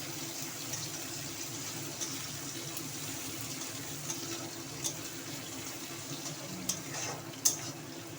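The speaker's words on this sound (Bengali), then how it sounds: "একটু পেঁয়াজ ফোড়ন দেবো, লঙ্কা ফোড়ন দিলাম, একটু কালো জিরে ফোড়ন দিয়ে নাড়াচাড়া করে নেব।" Onion, chili and black cumin tempering stirred in hot oil gives a faint, steady sizzle, with occasional light spoon taps against the pan growing a little more frequent toward the end; no talking.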